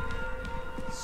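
A siren in the game Content Warning sounds as a sustained tonal wail, held steady through the short moment with faint clicks underneath.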